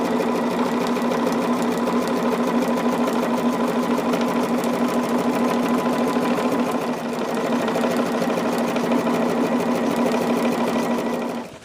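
A sewing machine stitches quilt block pieces together, a fast, steady mechanical whir with an even rapid needle beat, close and continuous with one brief slowdown midway and no talking.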